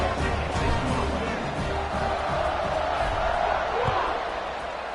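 A home crowd cheers at a Middle Tennessee State versus Florida college football game after a touchdown and extra point, a broad, steady roar filling the stadium beneath a commentator's voice.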